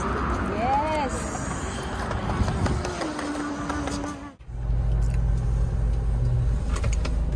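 A car sets off and drives on a road trip through Rajasthan, a steady engine and road rumble running under talk, with a sharp dip just after four seconds before the low drone settles back in.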